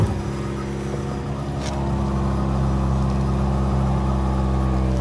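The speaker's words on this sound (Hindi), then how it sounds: "और इस गाड़ी का साउंड ऐसे ही होता है भाई," A Mini Pajero's engine runs close by at a steady idle, then the revs lift a little and hold at a slightly higher, even hum.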